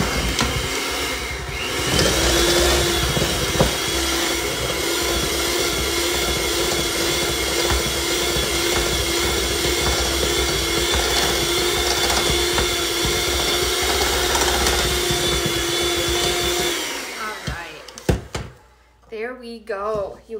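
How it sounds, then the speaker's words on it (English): An electric mixer beating powdered sugar into peanut butter dough for peanut butter balls, a loud steady motor whine that runs continuously before cutting off near the end, followed by brief clatter. "I'm just gonna give it one more mix to get this powdered sugar mixed in"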